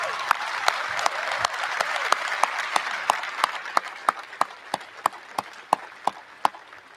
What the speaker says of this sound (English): give Mr. Dave Gorin a round of applause for all the work he does